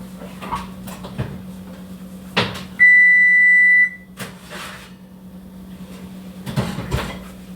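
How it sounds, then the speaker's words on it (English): An oven timer sounds one sustained, high electronic beep of about a second while pumpkin chocolate chip cookies bake, set against quiet kitchen clatter and a low hum. "So, alarm is going off."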